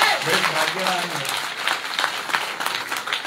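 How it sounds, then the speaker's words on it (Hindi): Applause from the audience at a Bhagwat katha in Baraut, a dense wash of many hands clapping steadily over a few seconds, with a voice speaking over the start. "जोर से ताली बजाओ तुम लोग"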